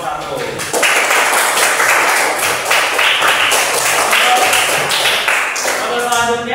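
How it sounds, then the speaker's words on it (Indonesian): A classroom group in a teacher-training religious education session claps for a discussion group after it presents, producing dense, steady applause for about six seconds with faint voices underneath. "kasih tepuk tangan untuk kelompok 1"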